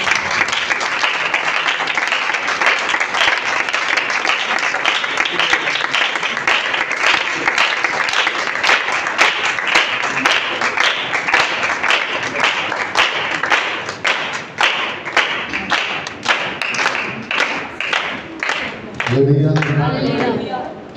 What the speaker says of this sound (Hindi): खुदा के खादम के लिए जोरदार तालियां।